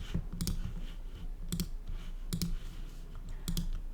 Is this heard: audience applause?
no